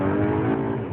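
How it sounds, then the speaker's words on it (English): A DSG-equipped car at full throttle in manual mode gives a loud, sustained engine roar with a steady rising tone, heard close and alone for under a second. "You just floor it all the way in the manual mode and see what's going to happen."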